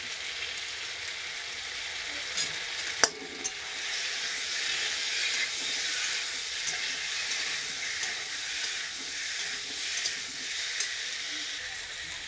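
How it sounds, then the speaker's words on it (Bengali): Spices cooking in oil with salt and turmeric for a rohu fish curry make a steady, hissing sizzle throughout, with a sharp utensil knock near the start and faint scrapes of stirring. "লবণ দিয়ে ভালো করে কষবো যতক্ষণ মশলা থেকে তেলটা থাকছে"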